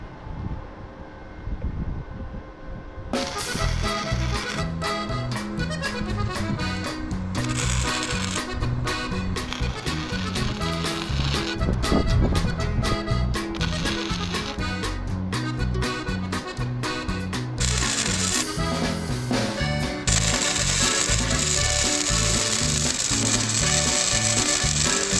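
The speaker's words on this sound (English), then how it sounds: "I think we'll just get this welded in." A utility trailer frame is arc-welded, giving a dense, steady crackling sizzle that runs continuously for over twenty seconds after a quiet start. It stays loud and close, with no talk.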